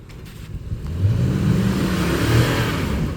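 Lexus GX460 SUV engine revving under throttle while stuck off-road, a rising, surging rumble that holds strong and loud through the short stretch.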